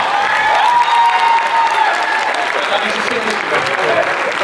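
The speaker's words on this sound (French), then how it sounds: "On peut l'applaudir à la personne de ce soir." Sustained applause from an audience fills the clip, steady and dense throughout, with some crowd noise and a voice or two mixed in.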